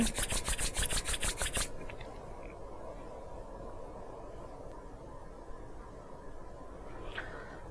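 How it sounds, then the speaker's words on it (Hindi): Two hands rub briskly together in a quick run of about seven close, rasping strokes, then stop, leaving a quiet room with faint background hiss. "दोनों हाथों को आपस में रगड़ते हुए"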